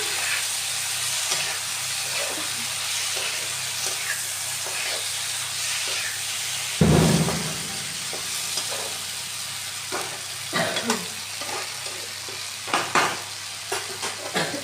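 Okra and onion frying in a pan for a dhaba-style bhindi dish after a splash of water has gone in. A loud, dense sizzle and hiss carries throughout, with a sharp burst near the middle and scattered stirring scrapes afterward.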